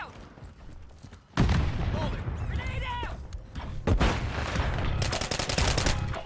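Modern Warfare III gunfire in Call of Duty: a sharp shot, then a sustained clatter of weapons fire and a second loud volley, ending in rapid automatic bursts, with brief chirping effects between.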